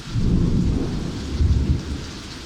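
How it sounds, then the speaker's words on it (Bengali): Heavy rain pours steadily in the USA with a deep rumbling roar, swelling twice, close and loud with no voices. "অনেক বৃষ্টি হচ্ছে আজকে।"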